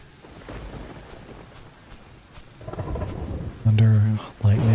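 Thunderstorm with rain in the game Terraria, a steady hiss of rainfall building into heavy, loud rumbling thunder near the end, with no talking.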